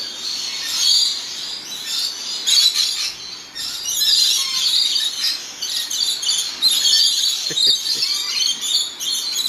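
Shrill, high chirps and squeaky calls come from a baby bird in a park, close and persistent with rapid repeated notes.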